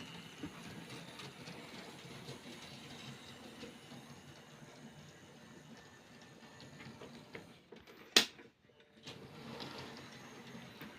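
A model railway locomotive, bought secondhand, runs on a loop of brand-new track, giving a steady low clicking rumble for several seconds before a sharp knock and a brief pause, then resuming more quietly.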